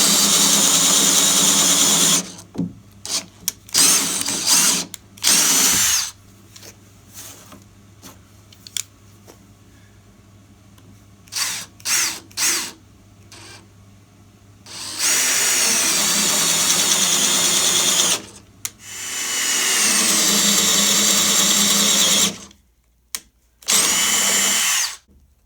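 Power drill boring a hole in wood with a sharp-tipped bit: long loud whirring runs of the motor interrupted by short bursts and pauses, close up with no voices.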